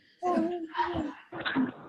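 A puppy whimpering during a video call, with three drawn-out whiny cries in quick succession, close and fairly loud, with no talk over them.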